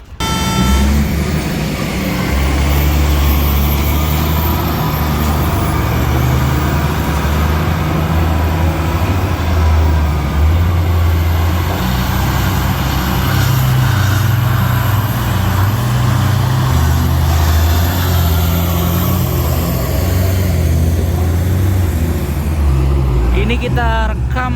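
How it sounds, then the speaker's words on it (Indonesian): At a mine site, an EXA 6030 excavator loads a 777 haul truck, a loud, constant low diesel roar with heavy rumbling that runs without a break, up close. A voice talks now and then over the machinery. "Ini kita rekam satu kali cycle teman-teman, dimana pemuatan dari unit EXA 6030 ke 777"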